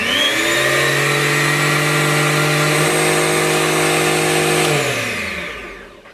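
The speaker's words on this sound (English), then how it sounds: "Let's start up the Surum, which is also set to its maximum speed" A Surum high speed bench drill runs at maximum speed, a loud steady whine with strong motor harmonics held close for several seconds before spinning down and fading.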